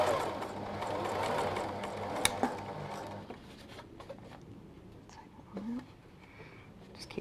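A sewing machine runs steadily for about three seconds, stitching the first run of a concealed zip into fabric, then falls quiet with faint handling noises and soft rustles close by.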